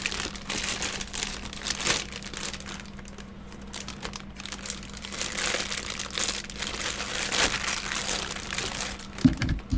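Crinkly plastic bag holding a Godzilla toy rustles and crumples close by in uneven bursts as it is torn open, with a sharper crackle near the end.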